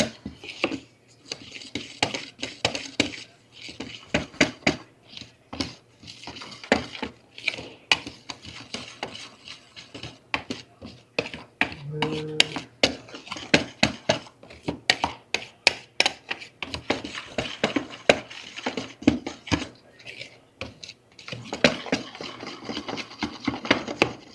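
Dry gingerbread ingredients and spices being stirred in a bowl, a continuous run of quick scraping and clinking strokes of a utensil against the bowl, close and fairly busy, with no talking.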